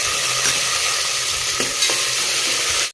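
Onion, curry leaves and kasuri methi fry in hot oil for tomato bath, giving a steady, close hiss with a few soft stirring knocks and no voices.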